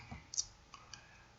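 A few soft clicks while tapping through the Clarity Money budgeting app, one sharper tick followed by two fainter ones, quiet and close against low background noise.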